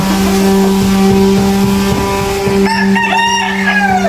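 Backyard chickens cluck, and near the end a rooster crows loudly, rising over a steady engine drone with a low hum running underneath.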